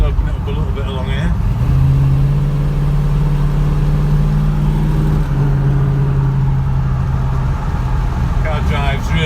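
A Mustang coupe's engine pulls hard along a main road, its steady mid-pitched drone rising as the car accelerates, with a gear change partway through and talk inside the cabin.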